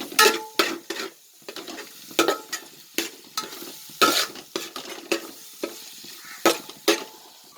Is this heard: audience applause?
no